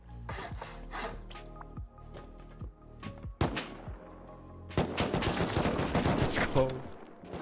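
Gunfire in the survival game Rust during a base siege, a run of sharp cracks and bursts scattered over the clip, growing into dense rapid fire near the end, with a voice talking briefly.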